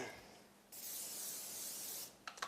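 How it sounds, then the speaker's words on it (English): A short, steady hiss of aerosol cooking spray onto a pan lasts just over a second, close by, followed by a couple of light taps. "little bit of spray on it."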